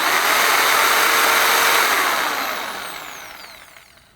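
A Philco jigsaw runs loud and steady, its motor whine climbing in pitch from the lowest speed setting to the highest, then fading away as it winds down.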